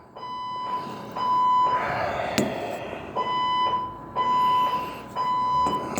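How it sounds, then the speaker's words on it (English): A false fire alarm sounds at midnight, its piercing siren tones cycling on and off in loud repeated bursts, each followed by a short gap before the next wail begins. "Now they're going to put the sirens on to pierce my ears."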